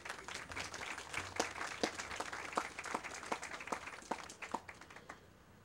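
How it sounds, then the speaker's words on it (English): A convocation audience at a university's East St. Louis campus claps, a scattered and fairly faint patter of individual hand claps that thins out and fades toward the end. "give yourselves a round of applause"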